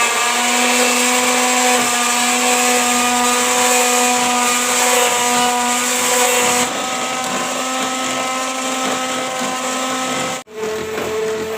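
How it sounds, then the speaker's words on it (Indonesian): An electric hand mixer whips whipped cream ingredients chilled with ice water, running as a loud, steady whine close by for about ten seconds, shifting pitch partway through and cutting off briefly near the end, with no talk. "aku mau mixer bahan-bahan whipped cream"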